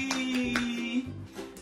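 Hands clapping in a lively family gathering on a rainy day, a quick run of about six claps over a steady humming tone.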